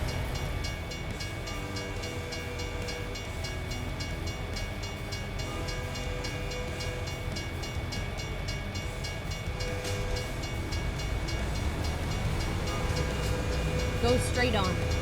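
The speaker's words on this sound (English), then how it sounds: "Oh, we got a train coming." Train rolling past in a truck driving video game, a continuous rumble with a rhythmic rail clatter under the truck engine and road noise, building slightly toward the end.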